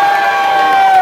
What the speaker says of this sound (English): One more cheer for Edward on his birthday